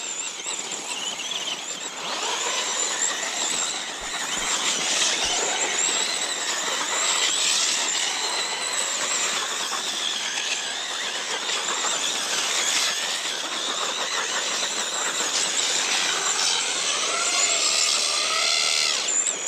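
A car engine is held floored while doing donuts, a continuous high strained wail with tire squeal layered over it, loud and sustained without a break.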